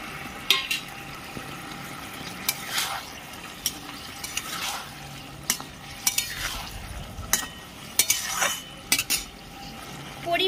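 Cornflour and water being stirred together for chilli paneer, a spoon clinking and scraping against a bowl in quick irregular bursts over a faint kitchen background, with no one speaking.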